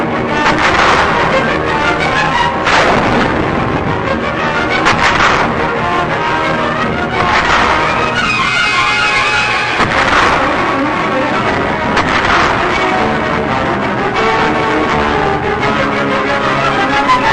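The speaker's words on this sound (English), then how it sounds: "Japanese artillery is constant, heavy, and accurate throughout the entire operation." Archive battlefield footage from Okinawa, 1945, carries a dense, continuous roar with repeated heavy booms of Japanese artillery fire, loud and rumbling without pause.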